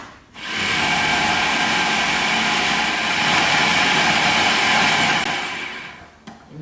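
A blender grinds nuts into chutney with a loud, steady whirring roar that runs almost without a break for about six seconds, then cuts off near the end.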